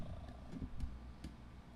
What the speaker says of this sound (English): And he's purring up a storm.